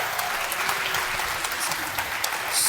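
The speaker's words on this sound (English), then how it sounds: "So I would like to give another round of applause for that," Steady audience applause fills the room at an award ceremony in Berlin, dense and continuous clapping close by that swells slightly toward the end, with no voices standing out.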